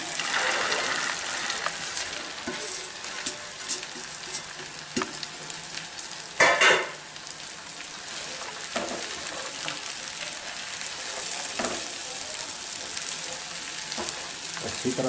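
Potatoes and mogray (radish pods) sizzle and fry loudly in a pan, a steady close crackle with stirring scrapes and occasional louder splashes.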